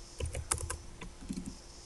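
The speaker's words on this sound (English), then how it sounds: "I'm just mashing the keyboard trying to get some random values" Rapid typing on a computer keyboard while entering random values, a quick irregular burst of close, soft key clicks with no talking.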